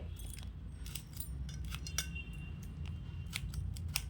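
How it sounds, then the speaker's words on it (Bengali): A spoon pricks pieces of ash gourd being prepared for murabba, giving quiet, irregular metallic clicks and light scrapes close by against a low hum. "এইভাবে আমি এগুলোকে ফুটো করে নেব"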